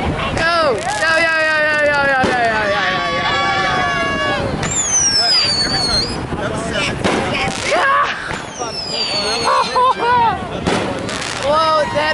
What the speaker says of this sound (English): the fireworks are starting to go